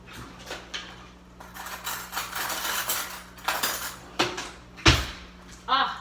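A metal fork scrapes and clinks against a bowl as black-peppered food is mixed. Light tapping and scraping come close by, with several sharper clinks near the end.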